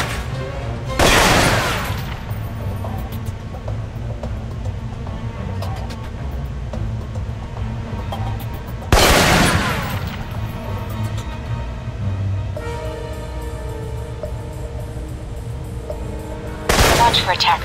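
Assault rifle bursts ring out in Alpha Protocol, three sharp, loud volleys spaced several seconds apart over a steady hum of background combat noise and occasional voices.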